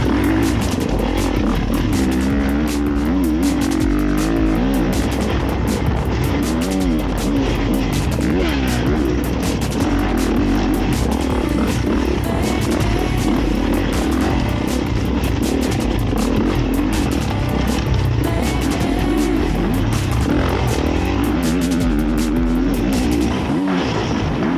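A 2024 Kawasaki KX450 motocross bike rides rough off-road terrain, its engine a loud, continuous, close roar that rises and falls in pitch throughout.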